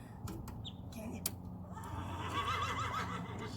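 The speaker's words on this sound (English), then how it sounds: "That horse is laughing at me, guys." A horse whinnies nearby at a farm where welding work on a manure spreader is under way, a wavering neigh rising over background clatter and a low voice.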